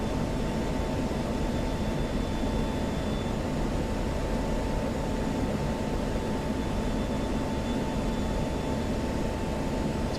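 A jet engine on full afterburner in a flight combat video game roars as a steady, dense broadband rumble with a faint constant tone, loud and unbroken throughout, with no voices.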